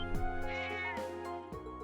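Cat meowing inside a video game, several short, close meows in quick succession over a steady tonal game soundtrack hum.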